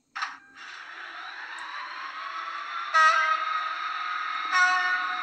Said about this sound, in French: il y a déjà un petit peu plus de klaxon